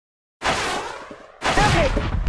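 Rapid shooting-range gunfire in the Kick The Buddy video game, loud and close, in two dense sustained bursts split by a brief pause.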